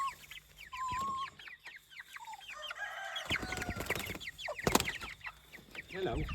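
Meat chickens out on grass pasture cluck and call in a busy, overlapping flock, with sharper bursts near the middle and a steady outdoor background throughout.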